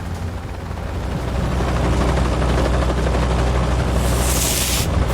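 Military helicopters fly low across an island, a loud, steady rotor thrum and engine roar that swells in the first seconds and then holds close and constant, with no voices.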